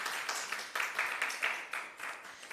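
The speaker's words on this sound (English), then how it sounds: "Let us give another round of applause for Prof." Renewed applause from a conference audience for Prof. Chapman Edwards at a national health research conference, with moderate, steady clapping and small swells throughout.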